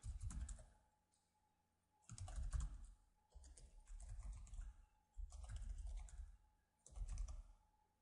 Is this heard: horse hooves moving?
no